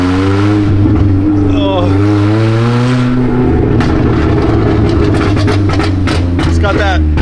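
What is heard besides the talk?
rattly engine of 60hp Honda Civic drifting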